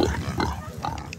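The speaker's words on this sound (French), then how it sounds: "Ou les cochons sauvages de Koh Soum." Wild pigs on Koh Samui, Thailand, grunt in short rough bursts up close, a few quick snorting calls in a row.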